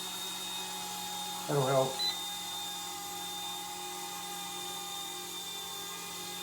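An Eachine E120 BO-105 toy RC helicopter flying indoors gives off a steady, thin electric rotor whine, with a person speaking briefly over it.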